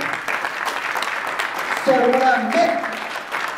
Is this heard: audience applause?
yes